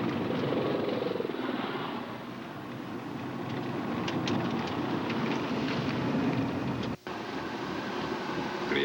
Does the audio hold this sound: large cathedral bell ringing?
no